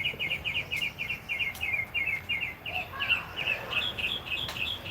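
Small birds chirp outdoors in rapid, repeated bursts of high tweets, fairly clear and close over a quiet background, with no talking.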